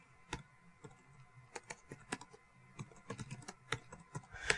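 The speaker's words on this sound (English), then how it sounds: "And I'll just type it out here." Quiet typing on a computer keyboard: irregular bursts of soft key clicks at close range, speeding up toward the end, with no voices.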